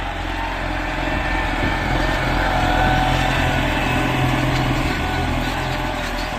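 Farm tractor pulling a cultivator with a packing roller and rear leveling bar across a field during spring soybean planting, a steady loud engine drone running continuously without pause and no voices.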